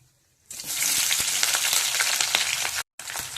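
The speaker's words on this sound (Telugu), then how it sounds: "ఈ ఉల్లిపాయ ముక్కలు మంచి కలర్ వచ్చే వరకు ఫ్రై చేయాలండి" Brief quiet, then a loud burst of chopped onions sizzling and crackling in hot oil with tempering seeds and curry leaves, steady for a few seconds with a short cut near the end.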